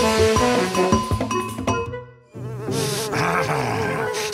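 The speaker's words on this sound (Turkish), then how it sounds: "Sineğin işi gücü yok, beni rahatsız etmeye gelmiş." Cartoon fly buzzing in wavering, whiny bursts, with a brief silent gap and then a renewed close buzz mixed with clattering comic sounds.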